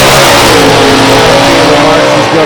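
A 426 Hemi drag race car at Beech Bend racetrack, running against a 283 small-block Chevy, with its engine roaring loud and close in a steady, sustained rev that fills the whole stretch.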